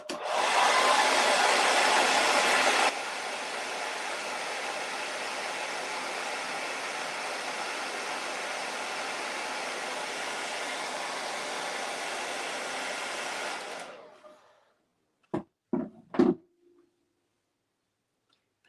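A hair dryer blasts steady, loud airflow onto fresh paint on a wooden wagon-wheel door hanger for about fourteen seconds, then cuts off, followed by a few brief clicks and knocks in near silence.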